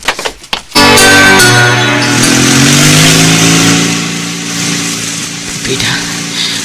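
A motorcycle engine starts and revs hard, rising to a loud, sustained roar that holds for several seconds before easing slightly, with a few brief knocks at the start.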